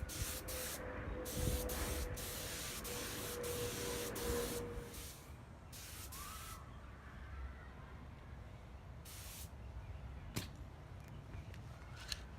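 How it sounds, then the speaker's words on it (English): Clear coat sprayed onto a Subaru bumper, a faint steady aerosol hiss broken by short bursts and pauses as the coat goes on. "I'm going to be applying the first of 2 medium coats of the clear coat"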